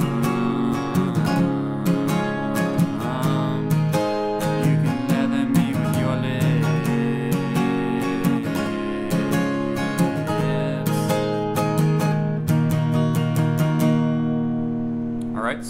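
Acoustic guitar playing the bridge of a song: steady strummed chords, close and full, with a voice singing along throughout.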